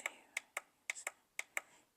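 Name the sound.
button clicks while setting a digital clock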